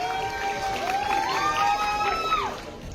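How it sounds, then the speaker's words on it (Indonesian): An audience at a film press conference cheers and applauds, with rising whoops and shouts over a dense crowd roar that fades slightly near the end. "Tepuk tangan bergemuruh boleh."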